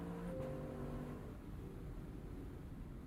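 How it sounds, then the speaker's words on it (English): A high-end luxury sports car engine in a visual novel game, a steady, low, throaty roar that drones on evenly, moderately loud and alone throughout. "Luxury car's throaty roar breaks the forest calm as the sun sets."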